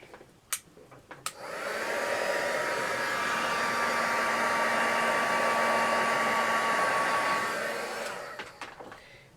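A hair dryer blows on a painted Christmas planter being altered into a Marie Antoinette style piece, with a few soft knocks before a steady, close whirring hum that runs for about six seconds and then winds down.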